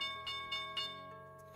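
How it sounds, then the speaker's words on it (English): A bell rings three times in quick, even succession for the market open, each strike clear and moderately loud before a sustained ringing tone fades out. "The bell is off and we are open."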